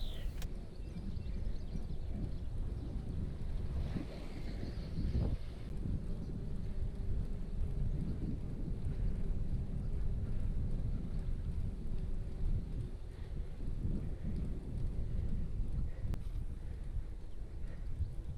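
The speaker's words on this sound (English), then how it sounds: "the wind is really starting to whip up the water here" Gusty wind roars steadily across an open lakeside in Hamilton Domain, New Zealand, heard from a moving bike, with a low rumbling buffet that stays loud and continuous throughout, and no talking.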